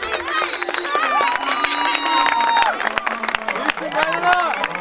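Lively crowd at a village wedding in Türkoğlu's Hacıbebek village, with applause and cheering under a loud, continuous wash of voices, shouts and music, steady throughout.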